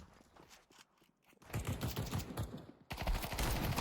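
Rapid bursts of automatic gunfire from Counter-Strike, quieter at first, then building into loud, dense volleys that crackle continuously to the end.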